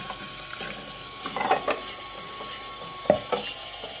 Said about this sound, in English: I'm just gonna let this sit and clean some rice for me, so that I don't have to do it.